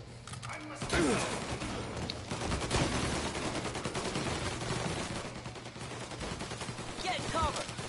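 Dense gunfire crackles in Mafia Definitive Edition, rapid machine-gun bursts and shots ringing out nearly nonstop under shouted voices, loud and close throughout.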